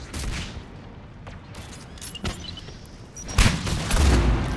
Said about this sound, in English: Whoa, exploded!